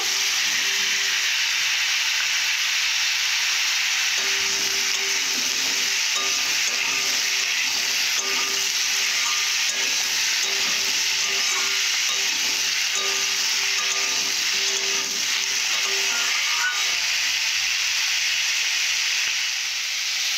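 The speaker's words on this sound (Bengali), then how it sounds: "পুঁই শাকটা কিছুক্ষণ ভাজার পর আলুগুলো ভেজে নেব।" Potatoes and Malabar spinach fry in a pan with a steady, close sizzle and hiss that runs unbroken, with occasional soft stirring scrapes and no voices.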